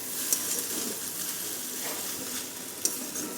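Fried egg is stirred into a pan of vegetable chow, giving a steady close sizzle with scraping stir strokes and a couple of small utensil knocks.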